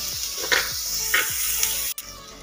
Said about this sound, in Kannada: ಈಗ ಈರುಳ್ಳಿ ಒಳ್ಳೆ ಸಾಫ್ಟ್ ಆಗಬೇಕು, ಅಷ್ಟರ ತನಕ ನಾವು ಇದನ್ನು ಫ್ರೈ ಮಾಡ್ಕೊಳ್ಳೋಣ